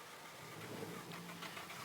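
Toyota GR Cup race car engines fire up together on the starting grid at Circuit of the Americas, a dense continuous roar and rumble heard from a distance, steady with slight swells.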